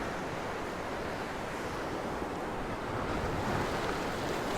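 Storm-driven waves from a tropical storm surge and wash over a seawall on the Chesapeake Bay, a steady, loud roar of surf with gusty wind buffeting the microphone throughout.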